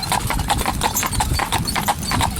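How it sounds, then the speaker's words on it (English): A Friesian horse trots at a jig-jog pace, its hooves clip-clopping in a steady, close rhythm that runs the whole time, with no talk over it. "plenty of walking, plenty of a little jig-jog trot like this"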